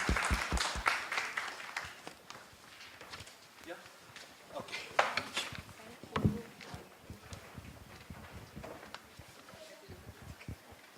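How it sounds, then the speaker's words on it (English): Scattered, uneven clapping from a small audience applauding panelists at a circular economy youth event in Delhi, fairly faint with intermittent sharp claps and talk mixed in. "Let's have a round of applause for our panelists"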